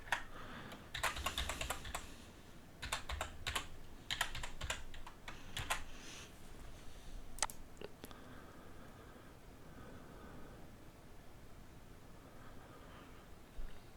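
Computer keyboard typing close by in a quiet room, several short bursts of quick key clicks with brief gaps, then fading into faint background hiss with a few isolated keystrokes.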